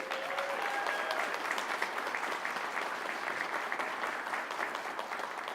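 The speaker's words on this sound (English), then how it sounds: "Let's give them a round of applause." Audience in a room applauding at a university mascot reveal, a steady, even wash of clapping heard at a moderate distance for about five seconds.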